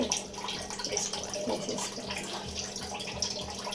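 Prawn shells are washed in water with a continuous splashing, sloshing wash of water, close and fairly loud throughout.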